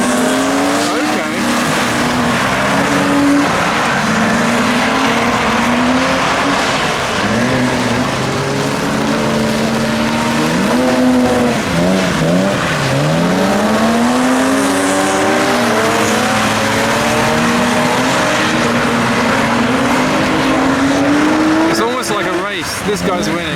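Several BMW E36 cars drift together, engines revving and rising and falling in pitch with tire squeal throughout, loud and close, while people talk over the noise.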